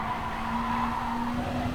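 Race car in a racing video game braking hard, tires skidding with a sustained, even squeal over engine drone, loud and close for the full stretch.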